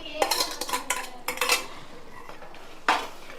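Yogurt going into a pot of mutton keema dum biryani, heard as a run of close metallic clinks and scrapes of a spoon against the pot, with a brief quiet stretch before one more sharp clatter.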